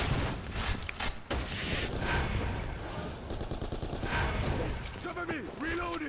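Rapid bursts of gunfire in the shooting game BlackFire crackle in quick succession, mixed with game effects and electronic tones, fairly close and loud throughout.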